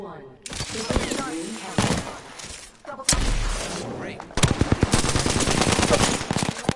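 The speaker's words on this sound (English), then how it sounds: "Enemies are shooting at me." Enemy gunfire in a first-person shooter video game: rapid bursts of automatic fire and sharp single shots crackle close and loud, with a dense stretch of fast repeating shots near the end, mixed with game effects.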